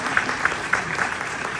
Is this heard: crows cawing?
no